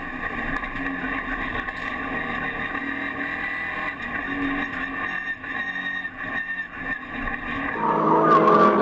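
Peugeot RCZ race cars circle the track at Le Castellet with a sustained loud engine drone, rising to a sharper, nearer roar as one passes at the end.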